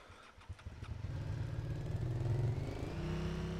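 An ATV engine in the video game Arma 3, sounding like a small PW50 motorbike, starts with sputtering pops, then settles into a steady buzzing idle and rev that rises in pitch, close and alone with no talk.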